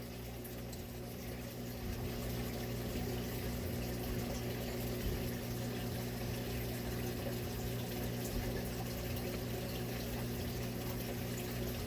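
Water flows and pumps steadily during a water change on an aquarium tank housing whiptail catfish, a continuous close hiss of running liquid with a low hum underneath, with no speech.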